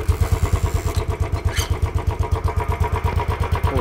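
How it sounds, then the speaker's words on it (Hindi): A Royal Enfield Bullet motorcycle engine starting, then settling into a loud, close, steady thumping idle with an even pulsing rhythm. "तो ये करते हैं स्टार्ट बाइक को"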